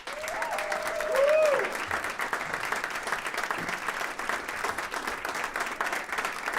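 An audience applauds to welcome jazz vocalist Michael Mwenso onstage, a steady wash of clapping with a few whoops and cheers rising early on, continuing throughout.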